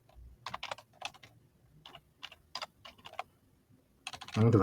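Typing on a computer keyboard in bursts of quick clicks, with short pauses between them, close and fairly quiet, followed by a louder thump at the end.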